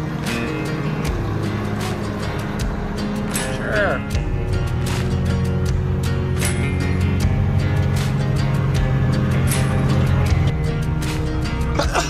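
A Mack truck driving on an island demolition site, its diesel engine rumbling steadily and fairly loud throughout, with clanks and knocks over it and a short spoken word.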